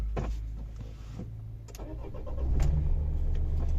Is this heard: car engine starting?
yes